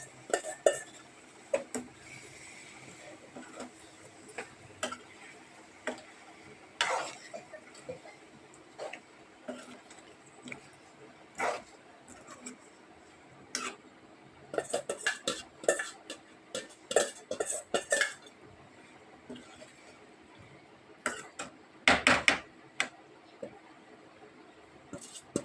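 Chicken being stirred in a pan with turmeric and spices while cooking a liver fry, with scattered metallic clinks and scrapes of a utensil against the pan, quiet and irregular, louder in brief bursts.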